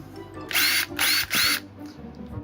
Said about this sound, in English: Is that a spoon and a drill?